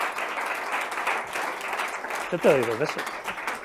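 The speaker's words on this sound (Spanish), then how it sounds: "os pido un aplauso súper fuerte, primero para Silvia Leal" An audience at a book presentation event applauds in a continuous patter of clapping that runs under a voice speaking Spanish.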